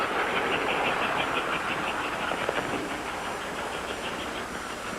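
An American Flyer Hudson 464 model toy train runs on its track with a steady, rhythmic chuffing hiss and rolling clatter. The sound is close, continuous and fairly loud, with no voices.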